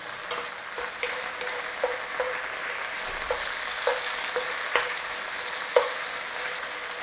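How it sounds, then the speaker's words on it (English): Beef strips stir-frying in a hot pan with garlic and ginger: a steady, close crackling sizzle with occasional sharp scrapes and stirring clicks, no talking. "Now you can cook the beef and you can take the beef out."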